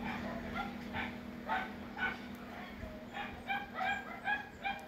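Several dogs close to a home bark, yip and whimper in short, repeated bursts. The bursts come in clusters, fairly faint, over a steady electrical hum.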